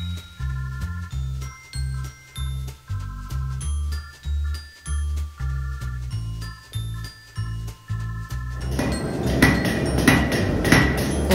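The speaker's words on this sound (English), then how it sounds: "the knife does take a while longer because you have to keep hammering it, putting it into the little clamp, keep heating it" A heated knife blade is hammered on metal, giving a steady series of loud, ringing strikes about two per second, each with a bright metallic tone, before a burst of broader clattering noise near the end.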